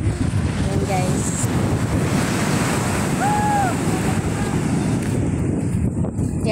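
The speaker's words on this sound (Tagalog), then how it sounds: "Guys, andito kami sa dagat." Ocean waves and strong wind heard from aboard a small boat at sea, a constant loud rushing wash with wind buffeting the microphone and brief faint voices.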